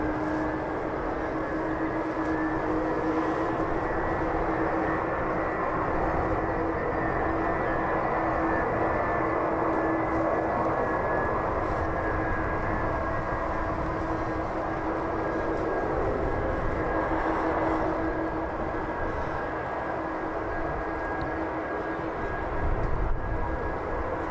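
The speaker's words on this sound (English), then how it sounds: "Just about hear those 4 engines in the distance starting up." Four aircraft engines start up in the distance at East Midlands Airport, a steady, far-off droning roar that holds evenly throughout with no voices.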